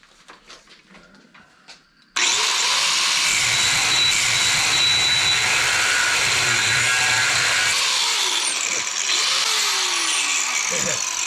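A Harbor Freight Hercules grinder with its wheel biting into metal and throwing sparks, starting abruptly after a few quiet seconds with low sounds and then holding a loud, steady, high whine that continues for the rest of the clip.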